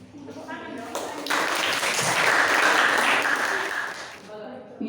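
A classroom group breaks into applause, a dense wash of clapping that swells and holds for a few seconds before fading, with a teacher's voice speaking just before it starts.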